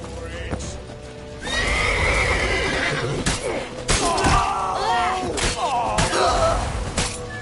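Horse neighing and whinnying in The Witcher 3 video game, several loud whinnies over hoof clip-clops and battle noise, with voices shouting throughout.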